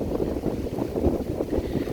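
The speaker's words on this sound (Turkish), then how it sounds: "Arkadaşlar ne kadar rüzgar var görüyorsunuz" Strong wind buffets the microphone in uneven low gusts, a rough rumbling roar with no voices.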